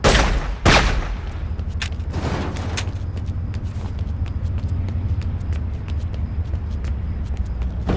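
Gunfire in The Godfather II video game: a loud opening blast followed by rapid bursts of shots crackling over a constant low rumble, continuing throughout.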